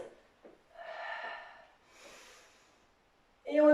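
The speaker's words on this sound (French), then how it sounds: "Et on expire, on relâche." A long, breathy exhale during a stretching cool-down in a beginner home HIIT workout, followed by a softer second breath; a voice cuts in loudly at the end.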